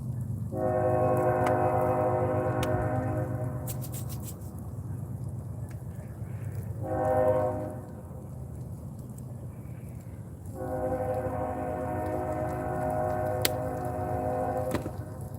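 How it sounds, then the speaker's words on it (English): A train horn blows three long, steady blasts over a low rumbling of rail cars passing at a moderate distance. "Nice little train going by."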